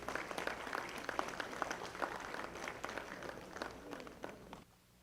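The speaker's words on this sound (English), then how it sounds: "Can you give him a round of applause?" Applause at an awards ceremony during an award distribution at a taxi ball, a dense crowd clapping steadily for about four and a half seconds before fading out abruptly, heard from within the room.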